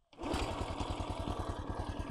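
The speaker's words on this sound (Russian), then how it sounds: "если у вас сел аккумулятор, вы всегда можете завести его с ноги" A G-Moto Cross X moped, a Chinese replica of a Honda, is kick-started: the single-cylinder engine catches at once and runs with a steady, rapid, throbbing putter close by.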